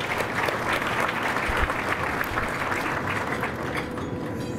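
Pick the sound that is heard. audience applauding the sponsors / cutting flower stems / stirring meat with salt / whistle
audience applauding the sponsors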